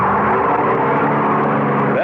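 A car engine roars as it pulls away and drives off, a steady loud rumble with a slowly shifting pitch, staged as a radio drama sound effect.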